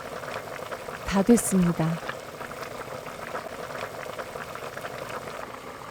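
Spicy Korean chicken soup (dakgaejang), a ten-serving batch made with two liters of water, bubbles softly in a pot with a low, steady simmer, while a voice briefly speaks over it.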